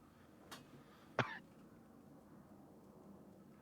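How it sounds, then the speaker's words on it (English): One sharp, close cough from the character Horst stands out against quiet background hiss, with a fainter short cough-like sound just before it. "Horst is coughing."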